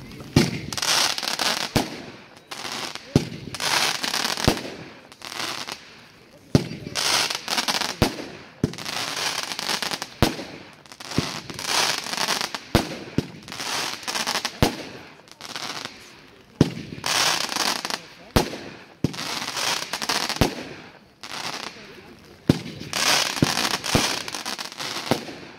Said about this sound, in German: Ein Feuertopfaufstieg mit Chrysanthemum in Gold.